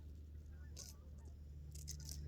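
Geese honk in a few short bursts at moderate distance, two quick calls early and a cluster near the end, over a low steady background hum.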